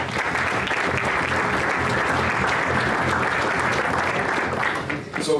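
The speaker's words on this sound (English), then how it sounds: "A round of applause for both of them." Audience at a corporate awards ceremony giving sustained, dense applause for two presenters, loud and even from start to finish with a slight dip near the end.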